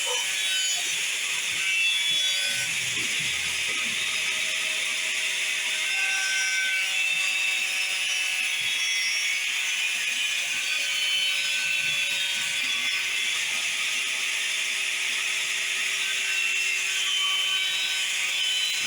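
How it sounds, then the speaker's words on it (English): Welding a marine-grade stainless steel hook onto a fishing net gives a steady, even hiss that runs unbroken from start to finish at close range, with no talking over it. "we're putting the weld on the hook now"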